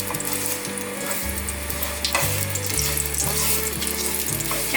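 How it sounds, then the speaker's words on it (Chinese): Ginger slices sizzle and fry in a little oil in a wok, a steady close crackle running the whole time with no talking. "锅内放入少许油，放入姜片煸香"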